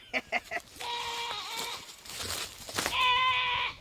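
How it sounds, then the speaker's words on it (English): A goat in heat bleats loudly twice in long, wavering calls, close by, after a few short knocking sounds at the start. "When goats come in heat, they get real vocal, some of them"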